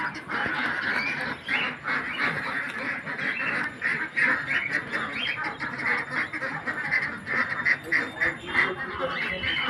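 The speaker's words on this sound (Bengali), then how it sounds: "হাঁসগুলো খাবে বলে অনেক চিল্লামিল্লি করছে।" A flock of ducks quacks noisily while waiting to be fed, a dense nonstop chorus of overlapping quacks and honks close by.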